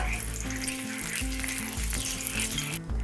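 Nigella seeds and a bay leaf crackle in a tablespoon of hot mustard oil, a steady close sizzle with a low humming drone underneath, with no voice.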